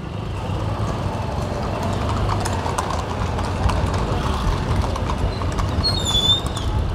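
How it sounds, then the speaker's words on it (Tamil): Police cavalry horses clip-clop in a steady rhythm on pavement during an outdoor peace ride event, mixed with traffic and engine rumble, with a brief whistle near the end. "நம்ம காவலர்கள் குதிரை படை சூப்பரா போனாங்க"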